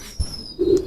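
A flying pigeon gives a brief, low, soft coo that swells near the end of a very short moment, close by and with no talking.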